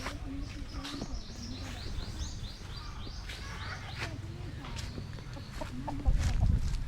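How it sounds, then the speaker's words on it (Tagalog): Chickens cluck and chatter in a steady stream, several birds close by in a rural village on an island in Masbate, Philippines, with a louder burst near the end over low background rumble. "Ayan po yung mga manok niya."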